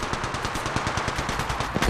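Rapid automatic gunfire in Apex Legends Mobile, a steady stream of sharp shots at moderate loudness with no talking.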